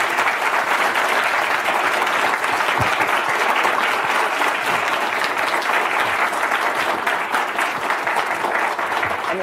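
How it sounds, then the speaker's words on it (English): A conference audience gives Jack Ma sustained, dense applause, a loud even roar of many hands clapping from start to finish with no pauses. "please let's give another round of applause to Jack for his time"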